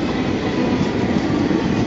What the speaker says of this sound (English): here is he coming into Interlaken, a local to Spiez